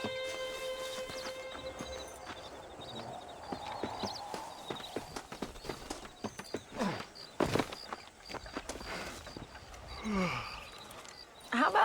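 Horse hooves clip-clop at a walking pace during riding in the video game Red Dead Redemption, an irregular series of moderate hoofbeats layered with game music tones and brief background noises.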